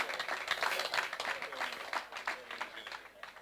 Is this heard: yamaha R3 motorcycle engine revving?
no